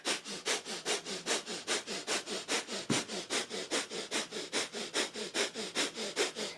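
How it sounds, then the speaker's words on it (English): Rapid, rhythmic breath-of-fire panting through the nose during a kundalini yoga session, about four sharp sniffing exhalations per second, close and steady for several seconds with no talking. "Breath of fire, our panting breath through the nose."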